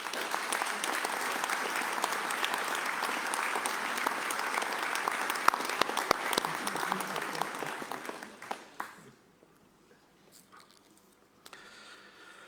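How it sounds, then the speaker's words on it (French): Steady applause from the crowd at a mayor's New Year ceremony in Dinard, honouring community councillors; it holds strong for about eight seconds, then fades to near silence with a few stray claps. "Je pense qu'on peut les applaudir."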